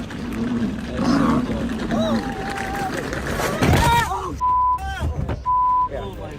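Lions at a zoo roaring and snarling as they fight, loud growls mixed with crowd commotion and repeated electronic beeps, with a narrator talking over it.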